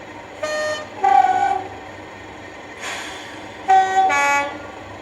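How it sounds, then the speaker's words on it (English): Horn of an Accurascale Class 37/6 model locomotive sounding from the number 1 end, a few short two-tone toots with a brief hiss between them, fairly close and clear over a quiet background. "you can hear that's quite different to the horn on the other end"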